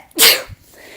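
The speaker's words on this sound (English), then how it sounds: "Excuse me, I'm going to sneeze." A single loud, close sneeze bursts out sharply and fades, with a small breathy tail afterward and no talking over it.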